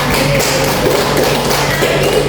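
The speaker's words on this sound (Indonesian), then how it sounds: "Beri aplaus buat Dila." Applause from a secondary-school civics class during a micro-teaching lesson, a dense, steady patter of many hands clapping close by throughout, with no voices over it.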